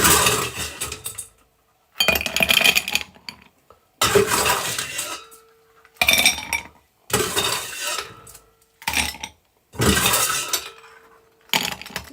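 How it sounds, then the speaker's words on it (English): Ice cubes scooped and dropped into a pair of cocktail glasses, giving repeated bursts of rattling, clinking clatter in separate rounds about every two seconds, loud and close, with brief quiet gaps between. "Now, bringing in a couple glasses. We're going to ice them up."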